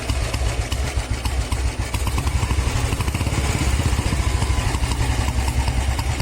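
An old 2006 Royal Enfield Bullet idles loudly up close with a noisy, clattery engine, its rapid even thump running continuously without pause.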